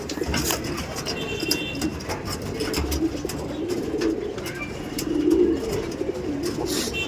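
Tournament-quality pigeons cooing at a pigeon sale in Ultadanga, a steady low murmur of several birds close by, with a busy rustling background and no talk.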